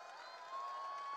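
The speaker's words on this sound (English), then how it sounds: "Can we hear some more claps," A crowd of students at a university event cheering and clapping in a steady, dense wash of noise that swells louder halfway through, with no speech over it.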